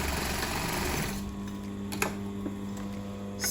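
Sewing machine stitching a gathered dress: a steady mechanical whirr of rapid needle strokes for about a second, then a quieter hum and faint clicks of the machine with a few small knocks.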